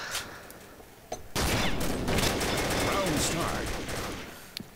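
Scoped Ruger Gunsite Scout Rifle shots in the Combat Arms shooter game, a sharp report followed by a burst of sustained, loud gunfire and explosive crackle that fills most of the clip, with faint game chatter underneath.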